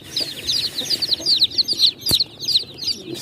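Day-old native kampung chicks cheep in a busy chorus of rapid, high, overlapping peeps, close and fairly loud, with a sharp knock partway through.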